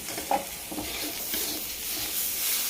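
Tomato being stirred into a spice masala simmering in a little oil in a pan, giving a steady close sizzle with soft scraping stirs running throughout and no voices.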